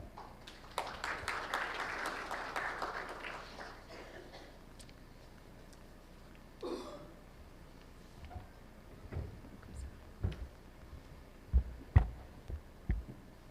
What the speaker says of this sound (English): Please welcome, ladies and gentlemen, with a big round of applause, Mr. Rajamani Shankar